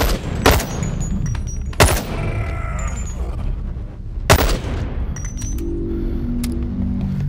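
Gunshots from a handgun in the VR video game Boneworks: three sharp, loud cracks spaced irregularly over several seconds, each cutting cleanly through a low game ambience with no talk.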